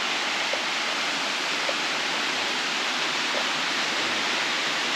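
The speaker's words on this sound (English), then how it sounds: "There's a cascade right there." Waterfall cascade at Rattlesnake Falls in State Game Lands 221, a steady, dense rushing roar of falling water that holds even and fairly close for the whole stretch, with no voices over it.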